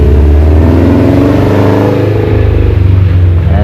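A 2013 Subaru WRX STI fitted with an Invidia Q300 exhaust revs loudly and close by, its deep burbling engine note rising and settling in steady pulses with no talking.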